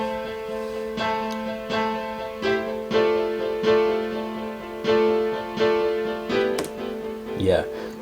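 Strummed synth chords with heavy Valhalla Supermassive delay in a trap beat, sustained tonal chords re-struck about once a second with smeared echo tails, a brief spoken word at the start.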